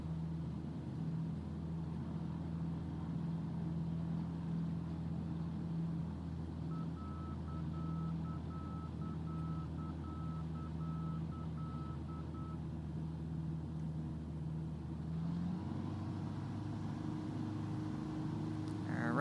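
Aircraft engine in Flight Simulator 2020, a steady low drone with a constant hum, a thin beeping tone partway through, and a shift in pitch near the end as the engine throttles down.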